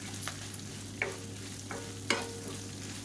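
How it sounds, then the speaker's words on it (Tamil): Curry leaves and onions sauté in a pan, a steady low sizzle broken by a few sharp spatula scrapes and stirs spaced about a second apart, close by with no talking. "இப்போ இதோட இதையும் சேர்த்து நல்லா முறுமுறுன்னு வதக்கி விட்டுக்கலாம்."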